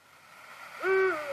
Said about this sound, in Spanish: al búho real, que es así.